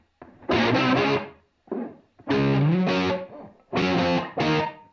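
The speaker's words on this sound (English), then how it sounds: "So if I can go to vibrato, maybe that would be cool." Electric guitar notes run through a UA chorus pedal in vibrato mode, played as three separate phrases with a wavering, pitch-wobbling tone, close and clear with short gaps between them.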